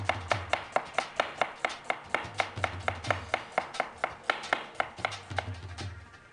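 An onion is finely sliced with a knife on a board, a rapid, regular run of crisp close chops that slows and fades near the end.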